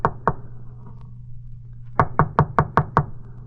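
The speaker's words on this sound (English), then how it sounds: "I knocked." Radio-drama sound effect of knocking on an apartment door: two sharp raps, a pause, then six quick, evenly spaced knocks, close and clear with no talk.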